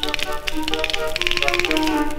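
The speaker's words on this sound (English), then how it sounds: "and castanets," Castanets click in quick, rhythmic bursts within a small percussion ensemble on an old 1947 shellac recording, sharp clacks layered over sustained instrumental tones.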